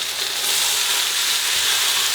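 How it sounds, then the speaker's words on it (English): Steady, bright sizzling of mushrooms frying in hot oil, a continuous crackling hiss close by. "That sizzle means that it's really cooking well in that oil."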